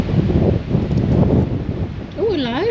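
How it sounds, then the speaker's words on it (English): Gusting wind buffets the microphone in low rumbling surges, with a brief electronic warble near the end. "It's ever so windy."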